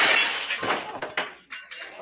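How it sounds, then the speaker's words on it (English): Old non-safety glass window smashed as an object is thrown through it in the 1972 TV film The Night Stalker, a loud bright crash followed by several scattered bursts of falling shards. "He throws that through his window"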